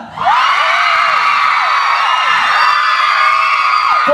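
A large concert crowd at a pop party show in Thailand screams, cheers and whoops continuously, loud and dense, with high shrill voices rising and falling throughout.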